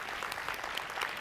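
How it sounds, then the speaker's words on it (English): An audience applauds at a business talk as a volunteer comes up to the stage, a steady wash of clapping at moderate volume, with a little voice mixed in. "round of applause for Victoria coming to the stage"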